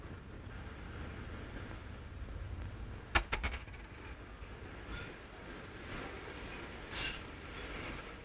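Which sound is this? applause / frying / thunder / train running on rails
train running on rails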